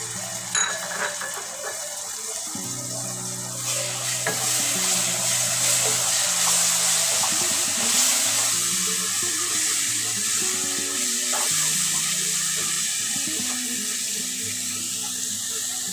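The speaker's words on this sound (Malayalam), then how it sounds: "ഇനി നമുക്ക് തൈര് ഒഴിച്ച് കൊടുക്കാം." Yogurt hits a hot pan of chicken masala with turmeric, setting off a sustained bright sizzling hiss that swells after a few seconds and holds steady over soft background music.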